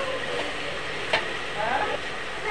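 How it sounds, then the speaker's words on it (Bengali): Jaggery being stirred into a cooking pot: a continuous scraping, rustling stir over a steady low sizzle, with a brief sharper scrape near the middle. "গুড়টা দিয়েও ভালো করে নাড়িয়ে চাড়িয়ে মিশিয়ে নিয়েছি"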